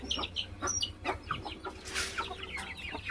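A hen clucks in a series of short, uneven calls, fairly close, against a quiet outdoor background with a faint low hum.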